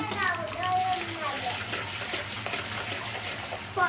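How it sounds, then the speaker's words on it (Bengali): Potatoes are washed in water at home, with splashing and running water close by under the speech of a woman and a child. "এদিকে আলুগুলা ধুয়ে নিই"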